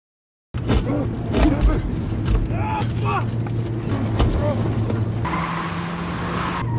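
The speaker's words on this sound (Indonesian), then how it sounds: "Marco segera kabur dengan mobil polisi yang ada Lino di dalamnya." A police car speeds off with engine roar and squealing, skidding tires, loud and close, amid film action with voices heard under the driving noise.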